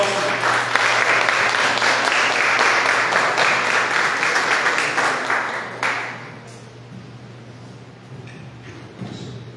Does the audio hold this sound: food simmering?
no